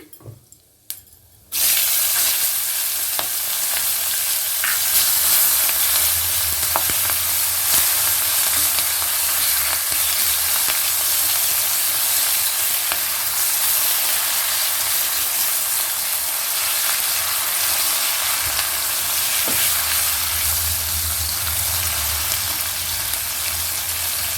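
Chopped onion, bay leaves and dried red chillies drop into hot oil with panch phoron, giving a sudden loud sizzle that settles into a steady, dense frying hiss that continues throughout.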